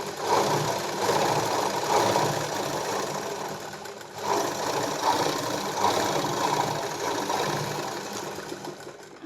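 A sewing machine runs steadily as it stitches a blouse sleeve joint, its rapid needle chatter close and continuous with a brief pause midway and no talk over it.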